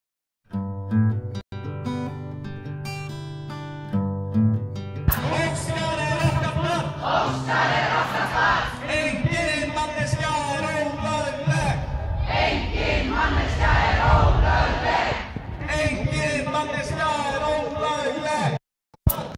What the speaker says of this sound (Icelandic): nú ert þú stattur hér á fjölmennum mótmælum